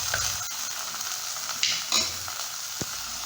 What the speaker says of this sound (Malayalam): അതിനുശേഷം നമ്മൾ മുറിച്ച് വെച്ച ചെറിയ ഉള്ളിയും തക്കാളിയും ഇട്ട് നല്ലവണ്ണം വഴറ്റുക.